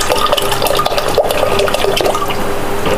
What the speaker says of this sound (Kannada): ಇನ್ನು ಸ್ವಲ್ಪ ನೀರು ಹಾಕುವ.